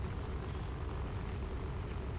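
An airplane engine in the War Thunder flight game hums with a low, steady rumble as the throttle is cut back for landing, a constant broadband drone with no clear changes.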